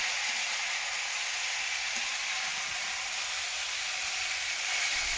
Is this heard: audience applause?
no